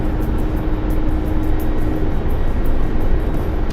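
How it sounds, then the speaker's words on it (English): A Chinook helicopter flies in within a video game, its loud, close rotor roar filling the whole stretch with a steady broadband rush and faint rhythmic blade pulses. "This Chinook's coming right here."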